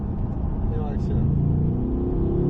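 A Chevrolet Corvette C8 engine revs and accelerates on a race circuit, a loud rising drone heard from inside the car, with a person talking over it in French.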